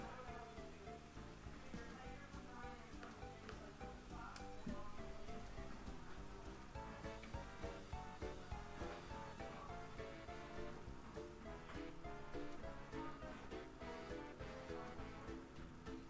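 Steady rushing waterfall water in Kirby and the Rainbow Curse, a soft continuous splashing wash under light game music, with no talk.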